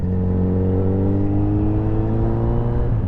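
Kawasaki Z900RS motorcycle with an Akrapovic exhaust, its four-cylinder engine humming steadily and close, a deep smooth drone with rising revs throughout.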